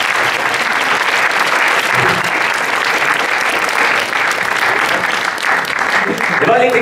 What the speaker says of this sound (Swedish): Det var en lite klen applåd, tycker jag.